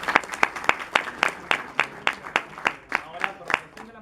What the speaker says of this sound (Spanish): Por favor, también le agradecemos con fuertes aplausos.